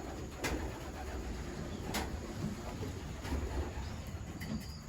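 Racing pigeons in a loft give off soft, low cooing over a steady murmur of background noise, with a few faint brief sounds scattered throughout.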